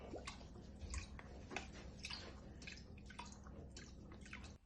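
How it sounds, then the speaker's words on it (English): Water runs from a K1 pump in a steady, close wash with scattered drips and splashes. It sounds like pouring liquid over a low continuous hum, and no voices are heard. "Let's show the water coming out."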